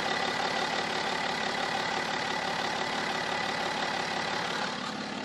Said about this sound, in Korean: 이제 바로 엔진 소리 한번 들려 드릴게요.